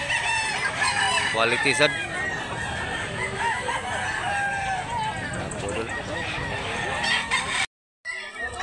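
Roosters crow and cluck around a busy rooster market in Mantalungon, Barili, Cebu, several birds calling near and far while people talk over the din.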